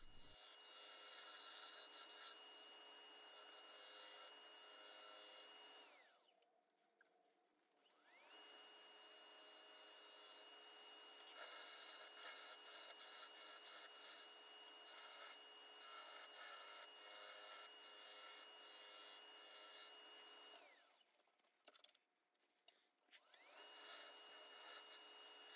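A negative rake carbide tool taking light passes on a poplar bowl turned from a firewood log, a soft steady rasping hiss in long stretches broken by two brief pauses, with no talk.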